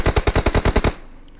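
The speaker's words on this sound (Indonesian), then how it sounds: "Saya tembaki mas dari sini mas, tak mati-mati." Gunfire in PUBG Mobile: a loud, rapid burst of about nine evenly spaced automatic shots, cutting off abruptly into near silence.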